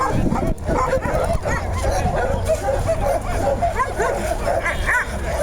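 A Yakutian Laika, an aggressive male, yips, whines and barks in excited bursts alongside other dogs at a show, loud and close, with people talking in the background.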